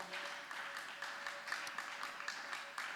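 A church congregation claps in praise to God during a worship service, a faint, steady patter of many hands that continues without a break.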